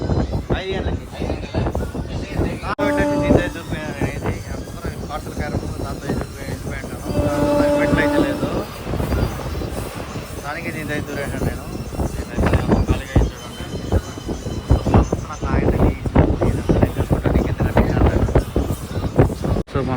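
A Villupuram superfast express passenger train rumbling and clattering along the rails near Vellore, with wind buffeting and a couple of horn-like tones, under intermittent talking.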